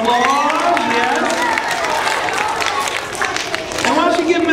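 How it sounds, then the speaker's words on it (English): Schoolchildren at a magic show in an elementary school give a loud, sustained round of applause, dense clapping mixed with cheering and excited young voices throughout. "So give yourself another round of applause"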